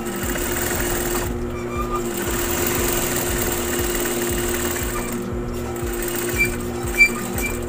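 A high-speed industrial sewing machine runs with a binder attachment, sewing bias binding onto an apron: a close, steady, rapid mechanical whirring and chatter that keeps going throughout, with a couple of faint clicks near the end.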